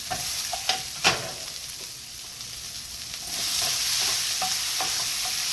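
Onions and zucchini fry in a pan with a soft, steady sizzle and occasional stirring taps. The hiss swells louder partway through. No one speaks.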